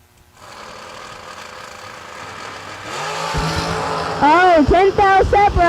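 Drag race cars scream down the strip, a rising engine roar that grows loud near the end and is joined by sharp wavering whines, with a commentator talking throughout.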